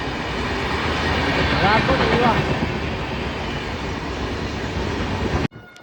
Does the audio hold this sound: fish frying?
no